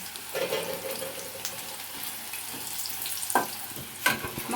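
Steady crackling of fish pieces frying in hot oil, with a few sharper bursts of spattering and a clink near the end.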